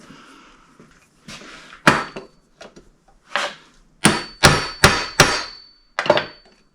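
Metal hammer blows driving a kingpin bushing into the front axle of a 1928 Ford Model A Roadster Pickup hot rod, light taps building to a run of five sharp, ringing strikes close by.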